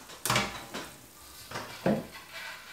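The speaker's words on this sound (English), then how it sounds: "Let's give it a stir." A paddle stirs brewing mash in a Speidel Braumeister, giving a few soft scraping swishes and knocks against the metal vessel, close and fairly quiet.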